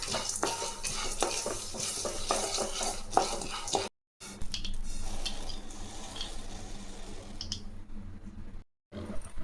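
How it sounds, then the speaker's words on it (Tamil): Roasted gram dry-roasting in a pan, a busy rattle of grains with repeated scraping stirs and metallic clicks, steady and close, broken by two short silences, without any talking. "கடலை நல்லா சூடிருச்சுங்க, இதையும் எடுத்து நம்ம கொட்டிக்கலாம்."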